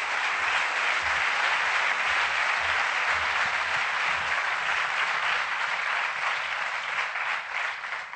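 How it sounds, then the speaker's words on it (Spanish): Warm, sustained applause from a large audience welcoming journalists Rosa María Calaf and Inocencio Arias at the Gutun Zuria 2012 event, with full, even clapping that eases slightly near the end. "Me gustaría que diéramos un caluroso aplauso, una calurosa bienvenida a Rosa María Calaf y a Inocencio Arias."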